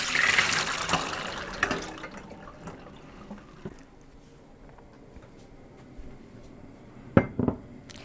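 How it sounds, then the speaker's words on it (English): Running tap water splashes over soaked soup beans in a pot while they are rinsed, with a busy watery wash at the start, then quieter trickling and a couple of sharp clinks near the end. "you want to rinse them off and put some fresh water on them"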